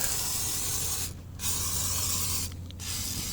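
Two short bursts of WD-40 aerosol spray hissing close by onto the blade of a Kobalt KM210 electric mower, each about a third of a second, over a steady low background hum.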